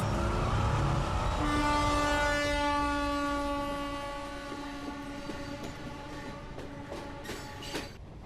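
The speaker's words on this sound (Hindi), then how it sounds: "एगाम्बरम मुथु नगर एक्सप्रेस से वो चेन्नई आ रहा है।" A Muthu Nagar Express passenger train in a film scene: a loud, sustained horn blast with layered harmonic tones rings out over rumbling wheels, then fades as the clattering passage continues alone.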